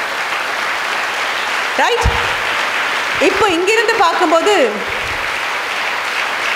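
A crowd of schoolchildren applauds continuously in a school hall during a Women's Day event, a dense, sustained wash of clapping while someone speaks over it through a microphone.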